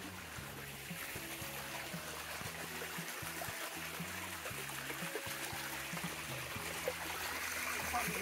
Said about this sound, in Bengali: লালাখাল যাওয়ার পথে একটা ঝর্ণা আছে, ছোট্ট ঝর্ণা না ঝিরি, পানি পড়ছে এই দিক দিয়ে